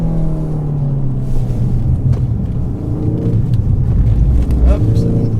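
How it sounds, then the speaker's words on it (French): 2019 Ford Focus ST engine and exhaust while driving: a loud, close, throaty drone that rises and falls with throttle and gear changes, with occasional exhaust pops, under someone talking. "Et la sonorité moteur est vraiment top, je pense que vous l'entendez, mais il y a des explosions à l'échappement parfois."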